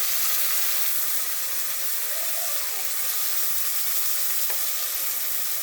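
Mutton added to a pan for a bottle gourd mutton curry, frying with a loud, continuous dense sizzle and hiss that stays even throughout, without any talk.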